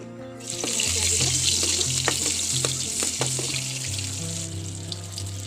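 Onions sizzle and crackle loudly in hot oil in a heated karai, a continuous bright frying hiss with a few sharp pops and a low steady hum beneath.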